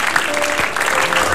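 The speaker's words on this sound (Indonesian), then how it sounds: "tepuk tangan dong" Brief burst of studio audience applause on an Indonesian TV comedy talk show, a dense crowd of clapping hands close and loud for just over a second, with a faint voice underneath.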